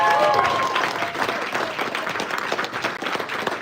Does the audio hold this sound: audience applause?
yes